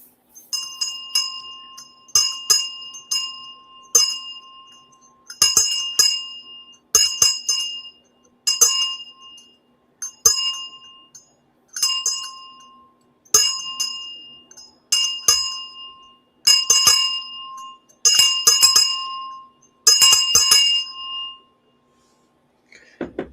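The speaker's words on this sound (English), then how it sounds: "Going to take a minute to ring the bell." A bell rung about a dozen times in separate clear strikes, each bright metallic ring fading before the next, loud and close with silence between.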